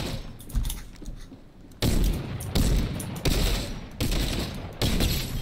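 Gunfire in Fortnite Chapter 2 Season 7, a string of loud close shots and short bursts in an irregular rhythm, with mechanical clatter between them.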